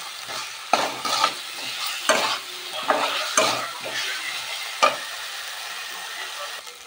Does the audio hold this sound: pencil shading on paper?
no